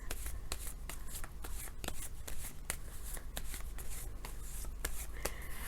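Tarot cards shuffled by hand, a rapid series of crisp riffling snaps and soft papery rubs repeating steadily, close and clear with no talk.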